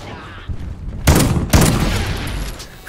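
Bursts of video game gunfire crack out in two loud volleys around a second and a half apart, each trailing into a dense sustained rattle of shots against a low background.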